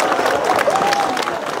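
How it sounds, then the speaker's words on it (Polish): A crowd at a regional brass band parade and contest applauds the Dobrynin brass band with steady, dense clapping. A voice speaks briefly over the clapping. "Jeszcze raz gorące brawa dla Orkiestry Dentej z Dobrynina"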